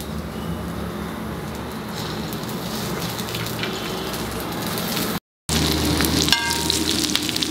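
A chopped onion fries in a little oil in a pan, giving a steady, dense sizzle throughout with one brief dropout before the crackle resumes.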